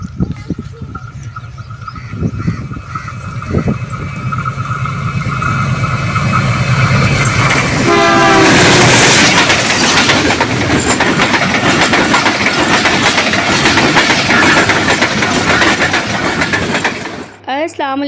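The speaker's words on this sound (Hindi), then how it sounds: "अभी भी वेलकम 12 डाउन हज़ारा एक्सप्रेस" The 12 Down Hazara Express pulls into a Pakistani railway station, its rumble and clickety-clack swelling loud and close, with horn blasts and voices talking in the crowd.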